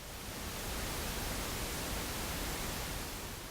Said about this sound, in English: Send separate uncorrelated pink noise to left and right channels